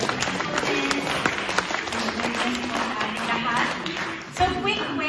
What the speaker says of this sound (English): let's all give the Lord our best clap